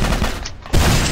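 Rocket blast in the MicroVolts Recharged video game, a dense, loud burst of explosion noise that briefly dips and then roars back.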